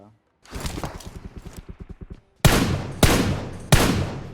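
Video game gunfire from an Uzi: a rapid burst of evenly spaced shots, followed by three loud, separate booming shots with echoing tails, close and dominant with no talk.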